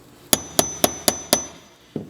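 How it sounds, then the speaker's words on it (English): A hammer strikes a chisel to tap loose a fuel pump cap on a VW MK4 TDI, five sharp metallic taps in an even rhythm, close and clear, then a pause and a softer sixth knock. "you can use a chisel and a hammer and carefully take it off"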